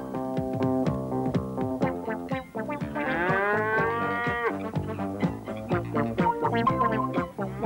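Cows mooing on a dairy farm with a herd of 35 cows, several loud, drawn-out moos overlapping one another near and clear, with no talk.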